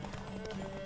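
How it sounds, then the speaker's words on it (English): Horse hooves clip-clopping at a gallop in The Witcher 3: Wild Hunt, a steady rhythmic pounding with game music and ambience, close and fairly loud. "I don't think the horses ever jump in this game."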